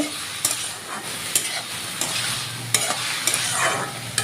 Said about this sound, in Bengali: এই যে দেখেন সবজিটা অল্প ভাজা নিলাম তেলের মধ্যে